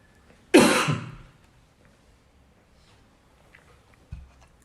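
A single harsh, dry cough burst up close, trailing off over about half a second, followed by quiet and a faint low thump near the end.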